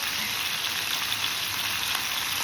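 Food for a Mexican pizza frying in hot oil in a pan, giving a steady, dense, close sizzle that holds evenly without pause and with no voices.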